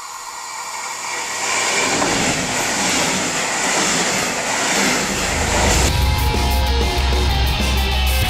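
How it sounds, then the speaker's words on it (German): A train at night in Basel rolls past with a loud, continuous broadband rushing roar, and a heavier low rumble swells in over the final seconds. "So, in dem Zug hier sollte ich jetzt eigentlich sitzen."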